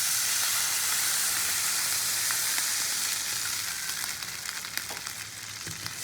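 Water poured into sizzling masala in a pan for a poached-egg curry: a loud, steady hiss and crackle of frying that holds throughout, then grows patchier and settles near the end.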